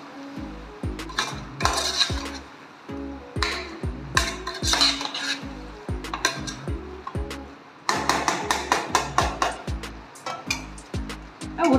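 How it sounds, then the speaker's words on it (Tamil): A metal spoon scrapes and knocks against a pot while mutton with turmeric, chili powder, mutton masala and salt is sautéd for a village-style curry, giving repeated rhythmic clinks and scrapes in bursts, close and fairly loud. "மஞ்சத்தூள், மிளகாத்தூள், மட்டன் மசாலா, உப்பு போட்டாச்சு. லேசாக இதை வறுத்துட்டு லேசாக கொஞ்சம் நேரம் வதக்கினா போதும்"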